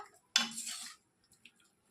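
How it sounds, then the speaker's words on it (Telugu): Parboiled bitter gourds are tipped into a strainer with one brief clattering scrape of metal and a soft wet shuffle, followed by a couple of faint clinks in a quiet kitchen. "ఇప్పుడు స్టవ్ ఆఫ్ చేసేసి ఈ కాకరకాయలన్నిటినీ స్టైనర్లోనికి తీసేసుకుంటున్నాను"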